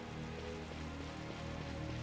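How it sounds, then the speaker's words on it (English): Rain falls in the video game Final Fantasy XII The Zodiac Age, a steady soft patter and hiss heard quietly and continuously without speech. "Well, now it's just raining."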